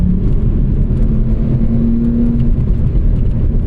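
A 2006 BMW M3 E46 ZCP on track, powering out of a corner under throttle: a loud, steady engine roar with a sustained mid-pitched tone, close and continuous with no talk.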